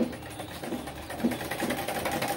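An electric sewing machine stitches a narrow seam around the edges of a one-piece niqab, a steady close whirring with a faint rhythmic pulse running throughout.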